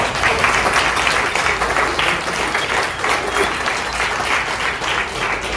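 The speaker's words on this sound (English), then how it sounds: "can we have a big round of applause for you?" Steady, dense applause from a crowd, clapping continuously and evenly throughout without pause.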